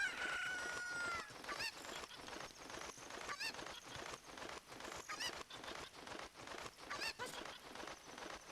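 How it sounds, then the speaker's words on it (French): Cucco chickens cluck and squawk repeatedly in The Legend of Zelda: Ocarina of Time, with bursty in-game effects and music-like tones running across the whole stretch, no voices. "Alors la poule, tu viens avec nous."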